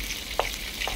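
Dried fish (tuyo) frying in a pan, a brief soft sizzle with a couple of sharp spits and pops over low crackling oil.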